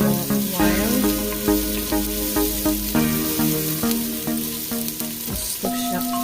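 Food frying in a pan while being stirred for Tibetan bakthuk, a steady sizzle with periodic scraping strokes under background music.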